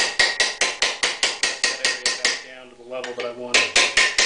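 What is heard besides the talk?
hammer blows shaping a car fender panel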